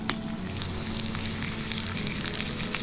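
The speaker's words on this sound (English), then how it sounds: "Going in with the butter" Butter sizzling steadily in a hot frying pan with seasoned nuggets of Parmesan-coated zucchini, a continuous close crackle and hiss with small pops throughout and no voices.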